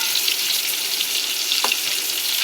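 Whole pointed gourds (potol) frying in oil in a pan give a steady, dense sizzle throughout, with a brief stir or shift partway and no talking.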